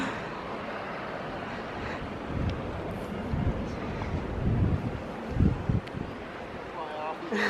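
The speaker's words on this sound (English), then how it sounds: "It's very windy right now" Strong wind buffets the microphone at a beach resort by a pool, a constant rushing roar with louder gusts, while people talk under it.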